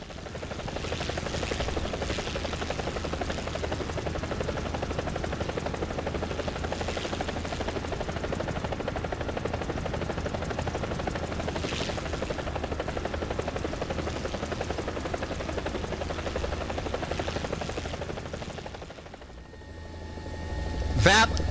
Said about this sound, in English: is the easiest split S I have ever done in a helicopter.